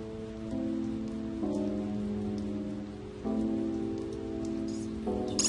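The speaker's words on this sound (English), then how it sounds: "And it's raining everywhere." Steady rain falling in the video game Digital Devil Saga, a constant hiss of drops running under sustained, shifting musical chords with no voices.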